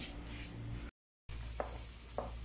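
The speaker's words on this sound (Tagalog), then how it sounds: "ginigisa na yung bawang, sibuyas with sili" Garlic, onion and chili sauté in a home kitchen pan, a low steady sizzle with occasional stirring clicks, close by; the sound cuts out briefly for a moment midway before resuming.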